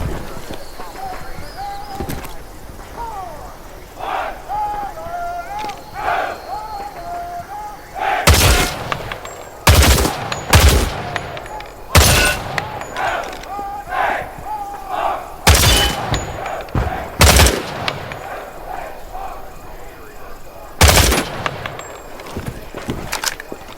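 Gunfire at targets in Hell Let Loose Vietnam: loud single rifle shots ring out at irregular intervals, about ten sharp cracks over game ambience, with voice narration between them.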